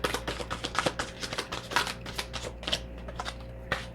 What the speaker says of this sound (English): I hope the sound of the shuffling isn't too obnoxious